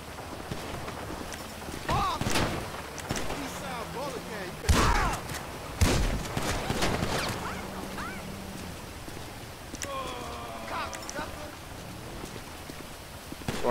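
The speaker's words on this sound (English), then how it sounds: "We got shots fired, dude." Shots in a police roleplay video game: a few sharp, scattered cracks stand out over a steady rain-like wash and background noise, with talking throughout.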